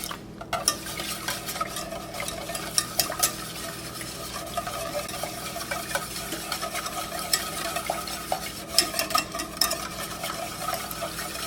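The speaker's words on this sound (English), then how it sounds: "we're just going to whisk away" A whisk scrapes and stirs an egg yolk vanilla pudding mixture in a pan on a stove over medium heat, a steady, rapid, close rhythmic swishing with light metallic clicks against the pan and no talking.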